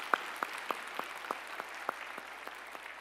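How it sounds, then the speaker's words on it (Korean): Church congregation applauding after an enthusiastic choir hymn during a Sunday service, a steady wash of clapping with sharper individual claps standing out, moderately distant and filling the room. "우리 찬양으로 영광 받으실 우리 주님께 영광의 박수 올려드리겠습니다."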